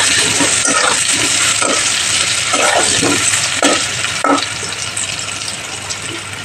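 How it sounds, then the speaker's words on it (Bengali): Potatoes sprinkled with salt and turmeric fry in hot oil, a loud continuous sizzle with bubbling surges and the scrape of a spatula stirring them. "এবার এই তেলে আলুগুলো ছেড়ে দেবো, দিয়ে আলুগুলোও ভালোভাবে ভেজে নেব"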